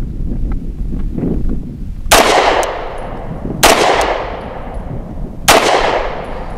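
Three sharp, loud pistol shots from a BUL Armory EDC firing Federal HST rounds crack out at an outdoor range about a second and a half apart, each ringing briefly before fading.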